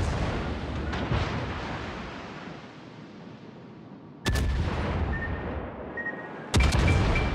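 Naval artillery fire in a tier-ten clan battle of a warship video game, with a sustained rumbling barrage followed by two sharp, loud salvos near the end.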